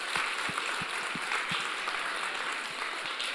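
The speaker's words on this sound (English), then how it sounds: "can we all please give a round of applause to our note takers and our facilitators for your small group?" Meeting attendees applaud note takers and facilitators with steady, moderately loud clapping from a room of people, with a few distinct nearby claps standing out from the mass.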